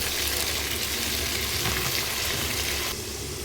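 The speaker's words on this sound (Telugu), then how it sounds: "ఆనియన్ ఫ్రై అవుతుంది" Onion frying in a pan, a loud continuous hiss and crackle that stays even throughout and eases slightly just before the end.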